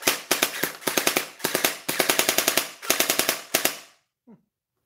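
A toy blaster with a faulty connection fires in rapid clustered bursts of sharp, close mechanical cracks for about four seconds, then stops, followed by a brief faint click.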